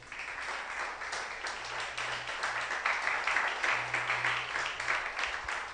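A church congregation gives sustained applause, a broad wash of many hands clapping at moderate distance for several seconds, fairly even and gradually swelling, with a low background hum.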